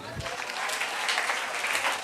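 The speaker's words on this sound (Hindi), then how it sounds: "तालियां हुई" Classroom applause during a career guidance session, a brisk burst of many hands clapping close by that fills the short stretch with steady crackle.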